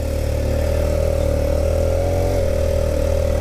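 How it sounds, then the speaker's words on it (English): A tuned Kawasaki Ninja ZX-4RR motorcycle engine idling high, a steady, loud close-up drone with a constant buzzing pitch that dips slightly once, no talking over it. "it idles also a lot higher than than it normally, or than it used to"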